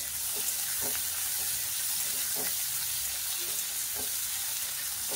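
Spices with dried Kashmiri chili powder and ginger-garlic paste frying in a pan, a steady close sizzle with occasional stirring scrapes and a faint trickle of water in the background.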